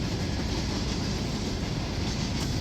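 A freight train with gondola cars rolls past close by, a steady loud roar of wheels on rails with faint rhythmic clatter throughout.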